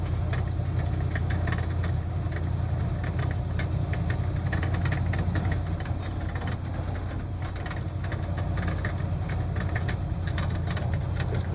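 A 1971 Ford F250 Highboy engine idles steadily after its first start of the year, a continuous low rumble with rapid ticking and knocking running throughout, close and fairly loud with no talk.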